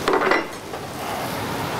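A trout fillet slides into a hot frying pan with a brief clatter of metal, then settles into a steady, soft hiss of sizzling oil close by.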